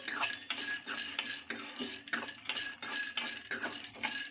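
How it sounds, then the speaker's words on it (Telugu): Peanuts being fried and stirred in a kadai, with a rapid, rhythmic scraping and rattling of a utensil against the pan, close and steady throughout. "ఈ పల్లీలను బాగా ఫ్రై చేసుకోవాలి"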